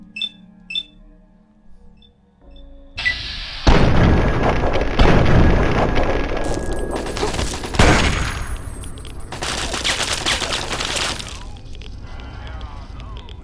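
Automated turret firing in Fallout 3 at the Wheaton Armory, a loud, sustained barrage of bursts and booming impacts that swells and fades in waves, with a few quieter clicks and beeps before it starts.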